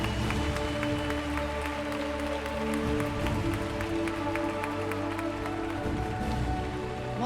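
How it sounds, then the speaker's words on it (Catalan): An audience at a 2019 school end-of-year party claps in a dense, steady roar of applause that keeps up at full strength for the whole stretch, with a faint tonal hum underneath. "Molt bé, un fort aplaudiment!"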